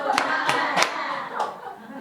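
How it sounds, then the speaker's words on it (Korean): Children in a Korean class clap their hands: a few quick, separate claps in a loose rhythm, fairly close, with voices murmuring underneath. "맞았다는 박수로 나와라"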